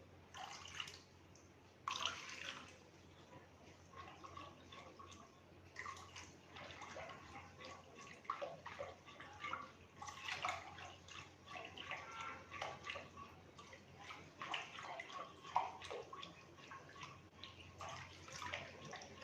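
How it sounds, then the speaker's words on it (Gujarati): Water is added little by little into a Bombay halwa mixture on the stove, giving soft, uneven splashing and dripping bursts with stirring, fairly quiet throughout. "હવે આપણે થોડું થોડું પાણી નાખી આ લિક્વિડ એ આપણે હલાવતા રહીશું"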